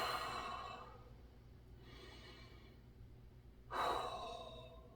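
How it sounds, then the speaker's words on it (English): Deep, slow breaths drawn and released while holding a squat during a golf legs workout, a long exhale fading out, then a sharp loud inhale or sigh near the end, close up with no talking. "Hold this here, a couple of deep breaths."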